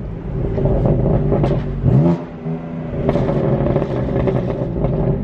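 BMW M4 engine revving hard at a car dealership, loud and close, with a rising rev around the two-second mark and sharp crackles and pops through the exhaust as the throttle lifts.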